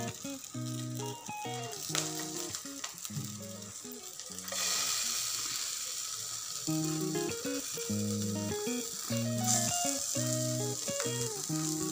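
A dabeli bun toasts in ghee or butter on a pan, with a continuous soft sizzle broken by the rattle and scrape of the bun being moved around the pan.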